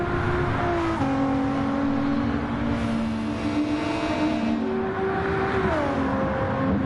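A race car engine in Gran Turismo 7 holds a steady, loud drone with pitch rising and shifting through gear changes, alone without talk.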